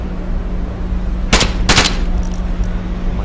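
Two quick bursts of automatic gunfire in the virtual-reality shooter Onward, each about a quarter second long, loud and close, over a steady low hum.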